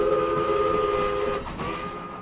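A Strasburg Rail Road steam train sounds a sustained multi-tone whistle, steady and fairly loud for about a second and a half before trailing off into rumbling rail noise.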